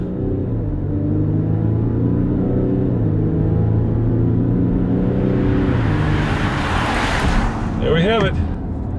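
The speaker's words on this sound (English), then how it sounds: "So I'm gonna let it spool up again here." A 2016 Jeep Grand Cherokee diesel or Toyota RAV4 Hybrid engine rumbles steadily, then spools up and accelerates hard in a 0-60 run, its pitch rising toward the end; a voice speaks briefly over the engine near the finish.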